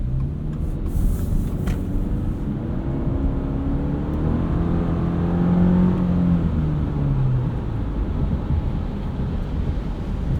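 A 2024 Subaru Crosstrek Wilderness with a CVT cruising on the road, its steady engine drone rising and falling gently under continuous wind and road rush, heard from inside the cabin with no talking.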